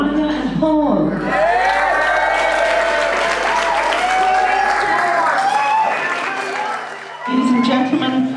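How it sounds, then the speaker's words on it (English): Wedding guests applaud and cheer as couples are welcomed at a reception, sustained clapping with whoops and shouts under music, the crowd noise swelling, then easing near the end as a voice resumes. "another rapture round of applause"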